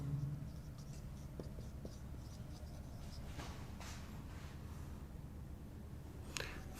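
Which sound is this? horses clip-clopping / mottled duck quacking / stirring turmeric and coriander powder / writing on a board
writing on a board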